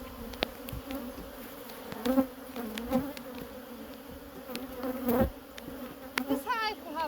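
Honey bees buzzing around a hive being split, a steady drone of wings with individual bees passing close by and fading, loud and near, with a faint voice in the background.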